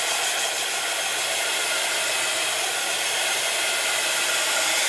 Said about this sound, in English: Sorry about the noise of the heat gun